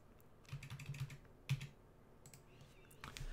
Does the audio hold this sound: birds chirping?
no